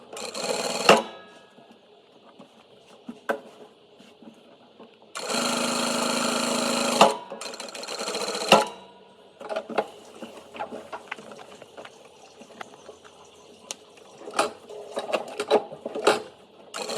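A sewing machine stitches the lining and shell fabric together at the neck of an Ajrakh print kurti, running in short close bursts of whirring between pauses, with one longer steady run in the middle.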